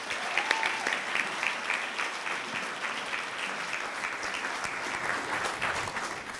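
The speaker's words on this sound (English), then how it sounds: "Let's give her a round of applause." Audience applause at a celebratory oath of office ceremony for a county legislator in Great Neck, New York; sustained, even clapping from a sizeable crowd, heard at moderate distance with no talk over it.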